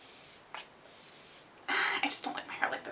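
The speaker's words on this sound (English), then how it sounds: "So this is the Foy Beauty Sealogy Illuminizing Setting Spray." A Foy Beauty Sealogy Illuminizing Setting Spray gets misted close up in a few short hissing bursts, the longest near the end, with small handling noises between them.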